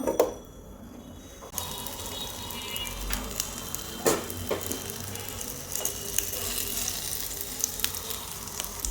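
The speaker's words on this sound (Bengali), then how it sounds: "আমি আলুগুলোকে ভেজে নিচ্ছি।" Steady oily sizzling of potatoes frying in mustard oil in a pan, with occasional sharper crackles and pops, close and continuous throughout.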